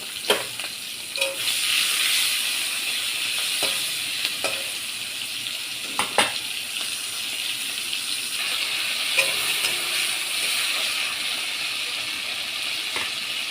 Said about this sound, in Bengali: এবার আমি চিংড়ি মাছটা তেলে দিয়ে দিই।